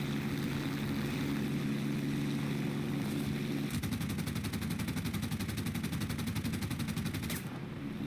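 MG 81 machine gun fire during a War Thunder air battle with a Fiat CR.42 Falco biplane: continuous rapid bursts over a droning aircraft engine, dense and sustained before cutting off near the end, with no talk.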